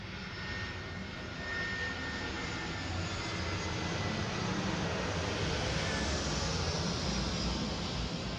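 An airplane flying overhead produces a steady, even engine drone. The distant roar holds at a constant level throughout, with no one speaking.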